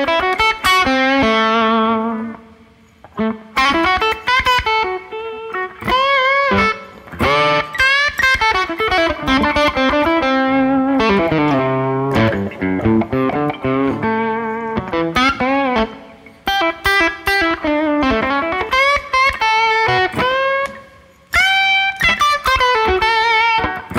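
Blues lead guitar improvised around chord tones through distortion and effects, a long run of sustained bent notes and quick melodic phrases, close and loud, heard alone.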